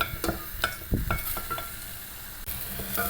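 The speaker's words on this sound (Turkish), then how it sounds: "Soğanlarımızı güzelce kavuracağız." Chopped onions sizzle in olive oil with a teaspoon of salt in a pan, a steady soft frying hiss broken by clicks and taps of a stirring spoon against the pan.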